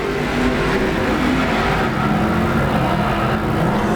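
IMCA sport mod race cars roar around the Arizona Speedway dirt track in a steady, loud wash of engine noise, with no pauses over the short stretch.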